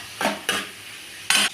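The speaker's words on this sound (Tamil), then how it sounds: "வெங்காயத்தை எல்லாத்தையும் கொட்டிட்டு நம்ம கிண்டி விடலாம்." Onions frying in a pan are stirred with a utensil in three quick scraping strokes over a soft, steady sizzle, close and fairly loud.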